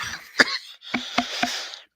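A man coughs several times in close succession, one sharp cough followed by a short cluster of three quieter coughs, up close in a quiet room.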